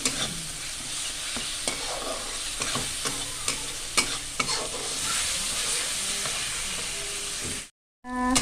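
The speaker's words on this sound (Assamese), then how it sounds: "এই মছলাখিনি ভাজি আছোঁ অলপ টাইম।" Spices, including turmeric and cumin paste, sizzle loudly in a hot pan while being stirred, with a dense crackling hiss and repeated scraping knocks, then a brief cut to silence near the end.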